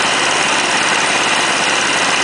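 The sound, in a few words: engine converted from gas to diesel running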